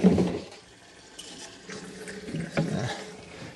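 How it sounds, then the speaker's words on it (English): A tap runs into watering cans in a garden with raised beds. The water makes a soft, close, continuous splash that swells and gurgles as the cans fill, and no one speaks. "I need to fill up some watering cans."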